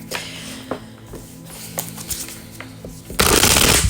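A tarot card deck is handled with a few soft taps and flicks, then a sudden loud riffle shuffle at the end, close up with no talking.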